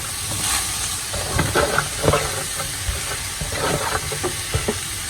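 Shredded cabbage goes into a pan of carrots for samosa and spring-roll filling, and a steady frying sizzle and hiss runs under scattered light scrapes and taps of stirring, close by.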